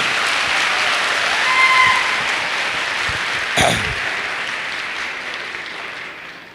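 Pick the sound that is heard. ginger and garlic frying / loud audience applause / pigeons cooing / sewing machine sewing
loud audience applause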